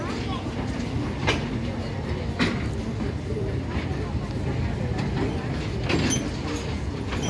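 An Lxd2 diesel railcar at Bachórz station gives a steady, loud rumble with rhythmic clickety-clack, recorded close to the train. Voices talk faintly underneath throughout.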